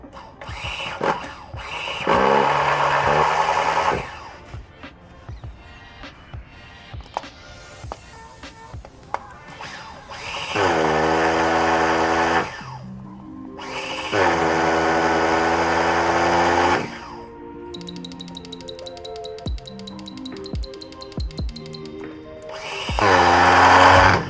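A modified OS 15CV-R nitro engine fitted in an HPI Nitro RS4 RC car with a two-speed transmission, starting up: loud buzzing revs in several long bursts, with a rising pull-start whine at first and idle stretches in between.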